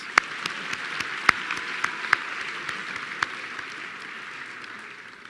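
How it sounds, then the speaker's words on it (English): Round of applause at a school graduation ceremony, heard as a soft, distant wash of many hands clapping, with a few sharper nearby claps standing out, slowly tapering toward the end. "Round of applause, please."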